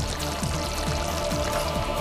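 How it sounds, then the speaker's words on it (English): Blended butter chicken curry mix pours steadily into a pan, a continuous splashing trickle with faint rhythmic kitchen noise underneath, close and fairly loud. "take the mix from the blender and pour it in the pan"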